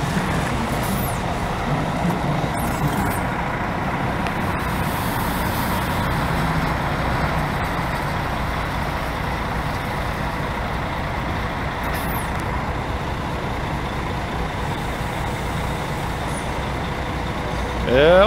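Another bus rolls into the Águia Branca garage, its engine droning steadily with brief hisses of air brakes, while a voice speaks over the vehicle noise.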